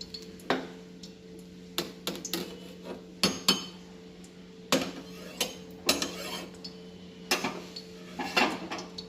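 A metal spoon stirs khichuri in a kadai, giving irregular clanks and scrapes against the pan. The knocks are sharp, close and repeated, with a steady low hum behind them and no talking.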